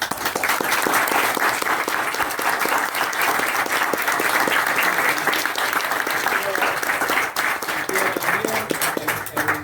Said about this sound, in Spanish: Así que le vamos a dar un muy fuerte aplauso.